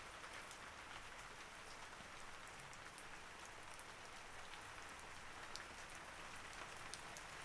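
Steady rain falls continuously, a dense even hiss with scattered droplet taps, moderately soft and unbroken throughout with no voices.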